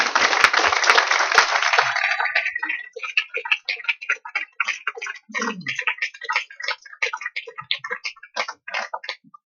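A conference audience bursts into dense applause that thins after a couple of seconds into scattered, uneven individual claps trailing off.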